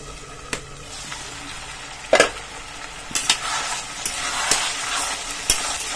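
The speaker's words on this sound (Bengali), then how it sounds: "আরো কষাতে হবে মাংসটা।" Desi chicken curry sautéing and sizzling in a pan while a spoon stirs it, with a steady fry under irregular scraping strokes and a few sharper clinks against the pan.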